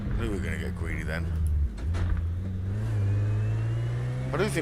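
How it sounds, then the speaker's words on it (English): A race car engine in Project Motor Racing on Xbox Series X revs and accelerates, with rising pitch sweeps, a brief dip, then a sustained high drone, under a speaking voice. "Engine sounds good."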